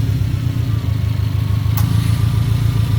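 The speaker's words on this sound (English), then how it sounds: "this thing like a boxer engine, and the idle just jumped up and down for no reason" A Subaru boxer engine idling with a steady low mechanical drone and a faint rhythmic pulsing close by, with no talking.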